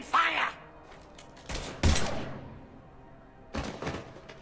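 A few loud, punchy gunshot bursts from Mass Effect 3 combat, separated by pauses, with a short voice heard at the start.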